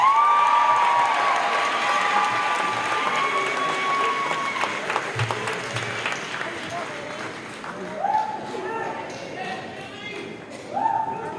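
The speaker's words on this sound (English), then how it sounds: "Let's give a round of applause to our new graduates." Applause and cheering for new graduates at a high school commencement ceremony, steady crowd clapping filling the hall, gradually easing while voices and a few whoops rise over it.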